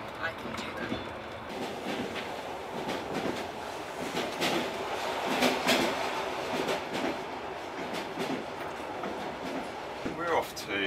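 A Trans-Mongolian passenger train rolling along the rails, a continuous rumble with rhythmic clattering wheel knocks and occasional squeals, heard from inside the carriage throughout, with a brief high squeal near the end.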